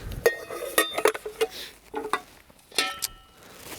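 Metal Trangia stove cooking pots, 1.5 and 1.75 liters, clink and clatter together as they are handled, a series of close, sharp, irregular knocks and rattles.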